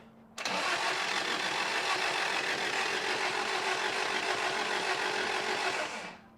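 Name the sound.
Toyota truck engine cranking over with radiator cap off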